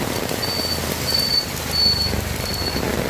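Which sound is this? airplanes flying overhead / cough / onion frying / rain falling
rain falling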